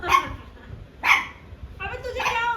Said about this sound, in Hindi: बादल की गरजने की आवाज सुन के भौंक रहा है भाई ये।